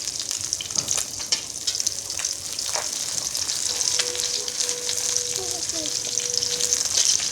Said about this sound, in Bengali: মাছগুলো একে একে কড়ার মধ্যে ছেড়ে দিচ্ছি ভালো করে ভাজতে হবে